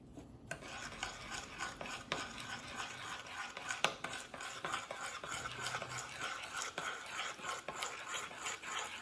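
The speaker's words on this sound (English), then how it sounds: "you're going to mix this all together" Cinnamon roll cake batter is mixed in a bowl, a quiet, close scraping and rubbing of a utensil against the bowl in an irregular rhythm, with no talking.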